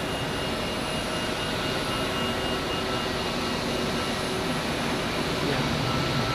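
Airbus A330 jet taxiing out at Zurich Airport, a steady, loud engine whine and broad rumble held without a break, with a thin high tone running above it.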